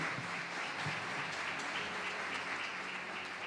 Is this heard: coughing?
no